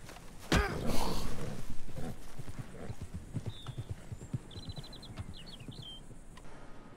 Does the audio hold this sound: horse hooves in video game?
yes